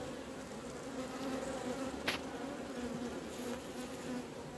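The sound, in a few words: wasp near a beehive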